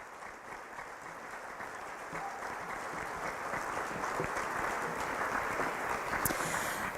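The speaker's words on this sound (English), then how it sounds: "Please join me in a round of applause for any veterans in the room this evening" An audience claps for veterans at a National Honor Society induction ceremony, the applause building gradually from a moderate patter to a fuller, denser ovation over several seconds, with no speech on top.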